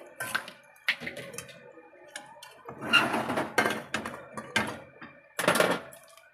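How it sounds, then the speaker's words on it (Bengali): A cooking pot being handled while mutton is set to cook on low heat, with scattered clinks and knocks of metal cookware, a few louder clattering bursts close by between quieter gaps. "হাঁড়ি ব্যবহার করছি"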